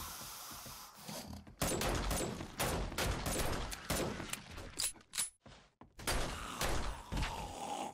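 Rapid bursts of gunfire from shooting zombies in the survival game 7 Days to Die, loud, dense volleys with brief pauses between them.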